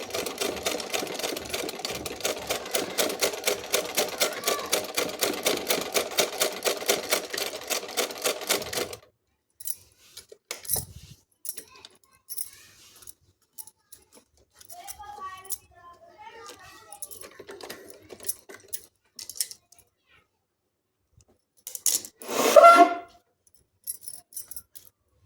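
Close and steady, a sewing machine stitches a sleeve in a rapid rhythmic run for about nine seconds, then stops, leaving scattered handling clicks and a voice speaking.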